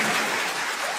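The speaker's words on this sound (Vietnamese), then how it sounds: "Có ai đó hãy dâng cho Chúa Giêsu chúng ta một tràng pháo tay và ngợi khen Ngài." A church congregation bursts into applause at a Protestant service, a dense, steady wash of many hands clapping at once, loud and sustained through the whole moment with no voices standing out.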